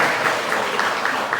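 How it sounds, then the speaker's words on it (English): Crowd applause at a church gathering, dense rapid clapping from many hands, loud and close, filling the whole short stretch without any speech. "Can we give Veda a big round of applause,"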